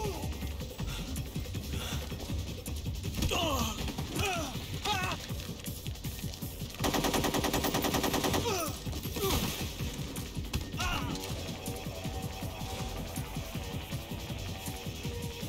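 Gunfire from the Metal Gear Solid 3 video game comes as a dense burst of rapid shots in the middle, with scattered impacts and game noise around it. Voices talk over much of the clip.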